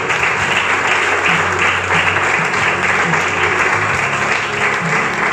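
A congregation applauds loudly at an evening church service, a dense, sustained burst of clapping with no pause, a low steady hum beneath it.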